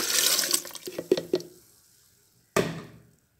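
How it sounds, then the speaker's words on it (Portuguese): Water splashes and runs from a kitchen tap while a blender jar is rinsed, with a few knocks and clinks against the sink, a pause, then a brief final burst of rinsing. "Agora eu vou lavar o copo do liquidificador."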